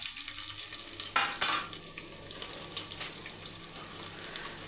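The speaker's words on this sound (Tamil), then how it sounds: "வெங்காயம் வந்து கண்ணாடி பதத்தில் வதங்கினா போதும்" Sliced onion sautés in coconut oil inside a pressure cooker, making a continuous close sizzle. A brief scrape and stir cuts through partway, and no one speaks.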